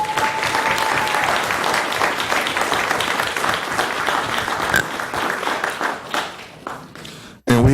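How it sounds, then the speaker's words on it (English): At a city council meeting, the audience gives a full round of applause for elementary school flag football champions, steady clapping that gradually thins and fades before a sudden noise at the end. "So y'all give them a round of applause."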